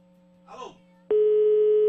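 A telephone call goes unanswered. After a brief faint sound, a loud, steady electronic line tone starts abruptly and holds without a break.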